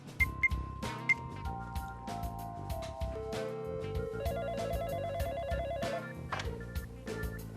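A telephone rings with repeated bell-like tones over a steady musical background, the sound clear and moderately loud throughout with no talking.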